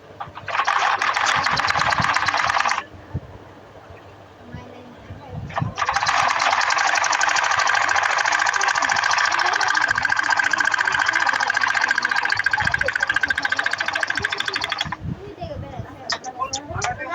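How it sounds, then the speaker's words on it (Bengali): Sewing machine stitching cloth for a boy's vest, in two long steady runs of rapid even stitching with a pause between, fairly close and loud, with faint handling sounds in the gap. "সেই 1/2 ইঞ্চি ভিতর দিয়ে সেলাই করব"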